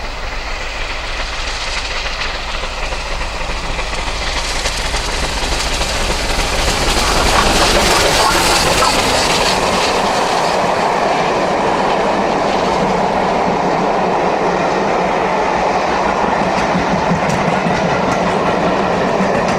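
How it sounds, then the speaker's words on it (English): Steam locomotive hauling the Royal Wessex toward Lichfield Tunnel, en route from Waterloo to Swanage: a loud rolling rumble with rhythmic wheel clatter builds as the train draws near and peaks as it passes, then stays heavy and sustained. "This is the Royal Wessex approaching Lichfield Tunnel on May the 4th, 2009, while en route from Waterloo to Swanage."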